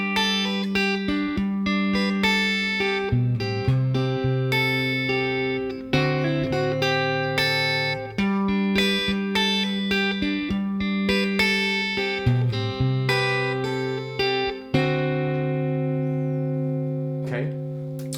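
Acoustic guitar picks through the verse of the Beatles' Here Comes The Sun at a slowed tempo, steady fingerpicked notes and chord changes ringing clearly and close for about eighteen seconds without speech.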